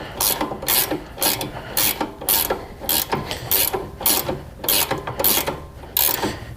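A wrench tightens a tie rod on a 2013 Dodge Dart SXT front suspension with a close, regular series of ratcheting clicks, about two bursts per second, and no talk over it.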